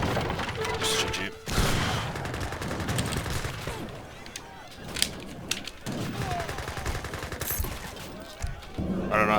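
Gatling guns firing in a ranked 1v1 match of the strategy game Age of Empires III, USA against Iroquois, with dense rattling bursts of rapid gunfire and clashing battle noise running almost continuously, loud and busy, with some voice mixed in.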